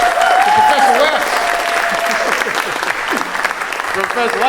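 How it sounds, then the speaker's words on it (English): An audience at a jazz and blues talk applauds Professor Cornel West with loud, dense clapping that runs throughout, while a few voices call out over it. "Round of applause to Professor West."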